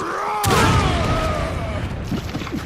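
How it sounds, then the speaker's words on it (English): A hand grenade explodes among a crowd of Majini enemies in Resident Evil 5, one heavy close boom that rumbles and decays over about two seconds, with game sounds and ringing tones under it. "let's test the hand grenade on a crowd of Majini"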